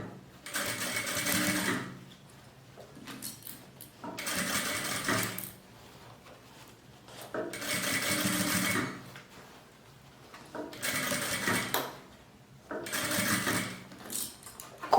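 Sewing machine stitching binding around the curved edge of a fabric zip pouch, close and clear, in five bursts of rapid whirring stitching separated by short pauses.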